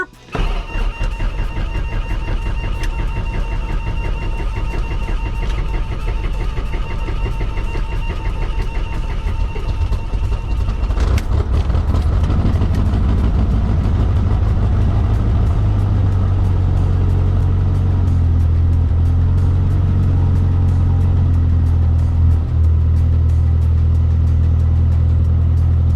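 A Mooney M20E light aircraft engine starts up after priming, rising into a loud, steady low rumble that runs continuously to the end, preceded by a whining pre-start tone.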